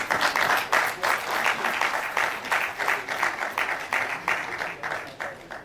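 A conference audience at the opening ceremony of an international ICT multi-conference claps steadily throughout, a dense rhythmic applause that rises and falls slightly without any speech.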